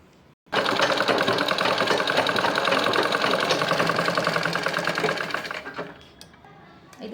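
A sewing machine rapidly stitches around the edge of a child's langa blouse dress, a loud, close, steady mechanical whirring burst of about five seconds that starts abruptly and winds down.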